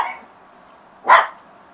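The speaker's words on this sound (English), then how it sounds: "there go my dogs. Sorry guys, they're gonna bark for a minute." A dog barks at someone arriving at a house, one loud sharp bark close by after a fainter trailing sound, with quiet room tone between.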